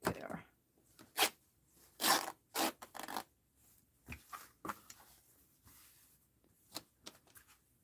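Paper being cut by hand at a desk while making a mixed-media art journal, with close, raspy snipping and rustling strokes in uneven bursts separated by short quiet gaps.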